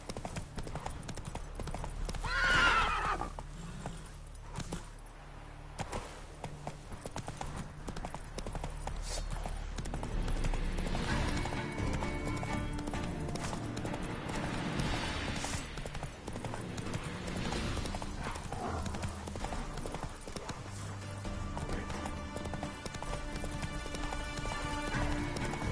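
The horse Roach clip-clops along steadily in The Witcher 3 video game, with loud, close hoofbeats and an occasional neigh. Game music and ambience play underneath.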